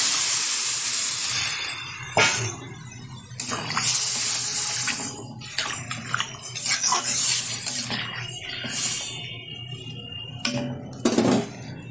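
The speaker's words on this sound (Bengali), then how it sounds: "দিয়ে দিচ্ছি পরিমাণ মতো জল" Water poured into a pan of fish curry with tomato and coriander, a steady close splashing hiss with the hot pan sizzling, broken by short pauses and bursts over twelve seconds.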